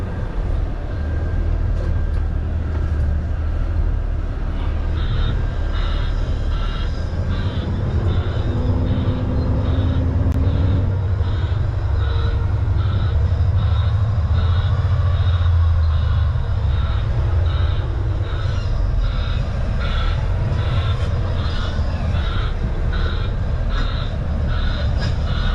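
A semi truck backs a trailer into place in the rain, a heavy continuous low engine rumble with a rhythmic high backup beeping pulsing over it for most of the stretch.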